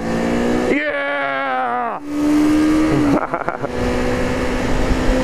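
Kawasaki Ninja 250 motorcycle engine revving hard and climbing through the gears on an open road, loud and close with rising and falling pitch sweeps, a brief shout mixed in.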